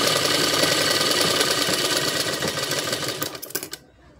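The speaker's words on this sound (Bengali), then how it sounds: "একটু একটু করে এইভাবে ঘুরিয়ে ঘুরিয়ে সেলাই করে নেব" A sewing machine stitches a blouse with a close, rapid mechanical whirr that runs steadily, then slows into a few separate stitches and stops. No voices are heard.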